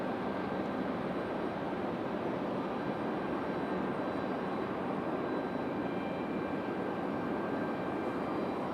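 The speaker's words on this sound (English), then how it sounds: "That 737-900 about to make its way on to the runway." A Copa Airlines Boeing 737-900 airliner taxis toward the runway at Raleigh-Durham International Airport, heard as a steady, distant broadband jet engine rumble and hiss that holds constant without speech.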